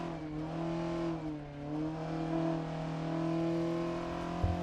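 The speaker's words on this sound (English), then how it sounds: "And we come back to CJ driving at breakneck speeds, holding onto the steering wheel and shifter for dear life" A rally car engine in the driving game Dirt Rally 2.0 drones steadily at high revs, a sustained buzzy tone that dips briefly and recovers, holding on throughout with a small knock near the end.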